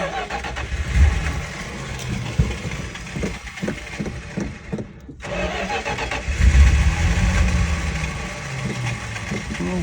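A 1967 Dodge Polara convertible's engine cranks in rapid rhythmic bursts, sputters trying to catch, pauses briefly, then cranks again with rough, uneven firing, loud and close.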